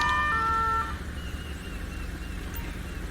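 A police siren wails in GTA V with the LSPDFR Polish police mod, loud and steady at first, then fading back into the game's engine and traffic rumble.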